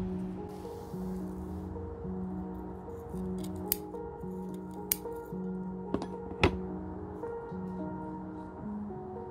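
Scissors snip a mesh screen out of a plant pot while a bonsai is being repotted: a few sharp, isolated cuts close by, spread over several seconds above a steady low background hum.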